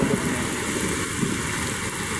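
Dense, steady hiss of heavy rain pouring down at Manila Bay during a thunderstorm, constant and loud throughout with no voices.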